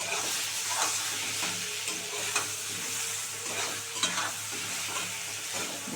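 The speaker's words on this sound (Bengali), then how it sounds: "এবার এটাকে ভালো করে লাল করে ভাজবো" Turnip and potato pieces fry in a pan, turmeric and salt added, for an egg curry. A steady loud sizzle runs throughout, punctuated by repeated scraping stirs of the spatula, with no speech.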